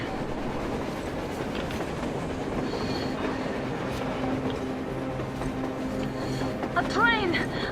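A train in the video game Metro Exodus rumbles along its rails with a steady clatter, muffled voices underneath, and a sharp wheel squeal rising near the end.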